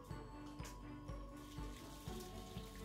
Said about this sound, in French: Au fur et à mesure que vous mettez l'eau,